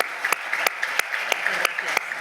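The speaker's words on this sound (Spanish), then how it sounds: "Vamos a darle un aplauso" Audience applause at a CEOE business conference in Spain on retail and employment: steady clapping with a few sharper, evenly spaced claps standing out, fairly close and filling the whole moment without talk.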